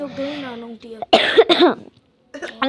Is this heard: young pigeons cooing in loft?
no